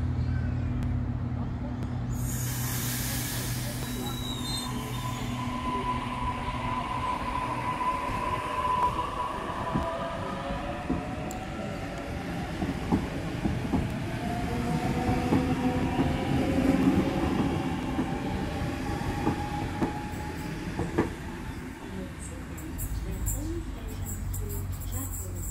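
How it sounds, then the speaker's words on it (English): A Waratah Series 1 electric suburban train pulls away from a station platform, its motor whine rising in pitch as it gathers speed, with rolling rumble and some high squeal, heard close and steady, with a faint voice nearby. "Waratah Series 1 set A42, now departing."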